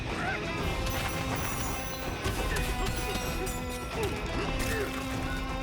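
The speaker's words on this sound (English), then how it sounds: "He's just smashing everything." Donkey Kong smashing everything in a Nintendo Switch 2 game trailer: a dense, continuous run of crashes and thwacks over a busy music bed, with someone talking over it.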